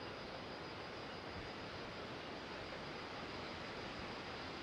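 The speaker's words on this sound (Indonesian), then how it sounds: "angin lumayan kencang." Fairly strong wind buffets outdoors around a banyan tree, a dense, constant broadband roar that holds steady and loud throughout, with no voices and no gaps.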